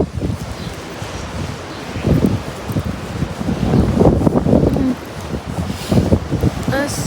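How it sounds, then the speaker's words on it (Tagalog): Strong gusting wind at a port jetty buffets the microphone in rough, rumbling bursts, with faint voices in the background. "Grabe ka hangin."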